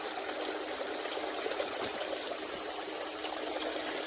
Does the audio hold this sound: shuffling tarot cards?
no